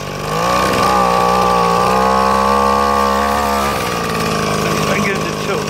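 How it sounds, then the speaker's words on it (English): A Mantis SV-2AE tiller's small two-stroke engine runs steadily at high idle on a newly fitted ZAMA carburetor, a loud, continuous buzzing drone that eases slightly lower near the end, with no talk over it. "So now it's running with a new carb that I put on there"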